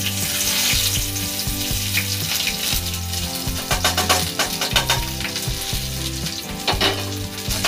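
Chopped onions and green chillies sizzle loudly in a pan in a small home kitchen while making Maggi, a constant close crackle with stirring scrapes running through it.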